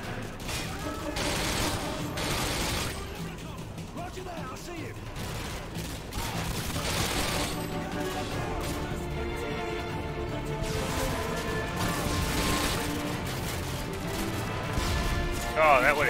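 Explosive missile impacts and crashing blasts from Call of Duty: Modern Warfare 2, rumbling with scattered gunfire and mechanical noise over a long stretch, while a player talks throughout.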